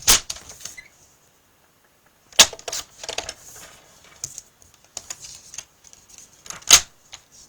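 Card stock cut down to 4 1/4 inches on a paper trimmer for handmade greeting cards gives a few sharp, close clicks and slicing snaps separated by quiet pauses.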